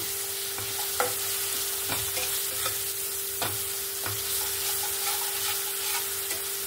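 Kashmiri chili powder and salt in a spice masala are stir-fried in oil, giving a steady sizzle with repeated sharp scrapes and clinks of a spatula on the pan.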